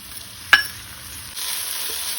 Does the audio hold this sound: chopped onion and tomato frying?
yes